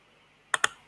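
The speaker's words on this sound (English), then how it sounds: "click on arrange, and I'm going to click back" Two quick mouse clicks about a tenth of a second apart, close and crisp against a quiet background, made while arranging clip art in Canva.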